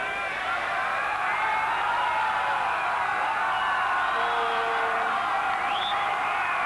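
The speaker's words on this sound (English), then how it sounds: "Crowd getting behind them" A Copa América stadium crowd in Chile roars steadily during Argentina versus Paraguay, a constant distant wash of cheering with whistles and whoops rising from it, under a commentator's voice.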